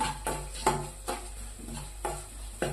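Spices fry for vada pav, with several sharp stirring scrapes or clinks at a steady rhythm in the pan over a faint, constant sizzle, close and moderately quiet.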